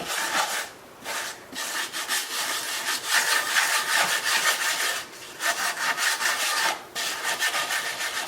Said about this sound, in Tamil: இந்த எலுமிச்சந்தோலை வச்சே க்ளீன் பண்ணிடலாம். இப்போ இதை வந்து அப்படியே தேய்ச்சிடணும்.